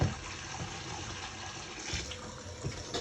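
Water runs in a quiet, steady stream into a pot of cornmeal, with soft splashing and no speech.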